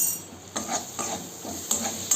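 Spice masala with turmeric powder and salt is stirred and fried in a pan for a Bengali-style katla fish kalia, giving a soft sizzle with a few scraping stir strokes at uneven intervals.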